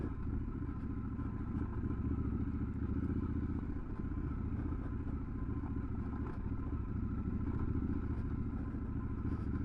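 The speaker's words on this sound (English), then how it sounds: "there's the bit of off-roading on the 1200 Scrambler XE" Triumph Scrambler 1200 XE motorcycle riding off-road, its engine a steady close rumble throughout, with scattered clatter and thumps from rough terrain and no talk.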